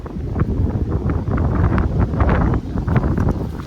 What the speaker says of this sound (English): I really hope the wind is not too bad.